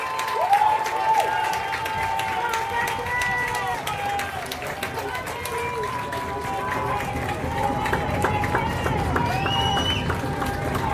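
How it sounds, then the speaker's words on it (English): A high school baseball crowd at the Kellenberg versus Chaminade NSCHSAA finals cheers and claps steadily, a busy wash of applause and shouts that stays loud throughout, with voices in the mix. "Crowd getting into it."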